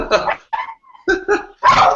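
Indoors during a talk, a dog barks in a few short, sharp bursts with gaps between them, loud and close.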